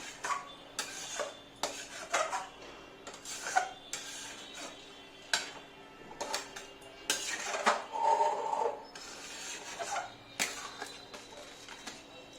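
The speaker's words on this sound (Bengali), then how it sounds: "এটা কমিয়ে কমিয়ে আমি এটা নাড়তে থাকবো অনেকটাই ক্ষীর তৈরি হয়ে এসছে" Palm kheer being stirred in a pot on low heat, a spoon scraping and knocking against the metal in repeated, uneven strokes, close and moderately loud with no talking.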